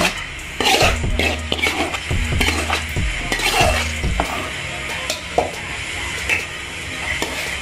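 A spoon scrapes and clanks against a pot as pulihora tempering is mixed into hot rice, with several close, rhythmic stirring strokes and a faint sizzle.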